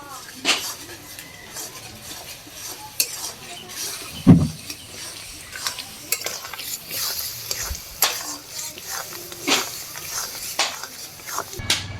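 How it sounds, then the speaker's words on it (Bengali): Amla pickle cooking with cornflour in a pan is stirred with irregular metallic clinks and scrapes of a spoon against the pan, over a faint background sizzle, including one louder knock. "কর্নফ্লাওয়ারটা দিতে থাকবো আর এইভাবে নাড়তে থাকবো"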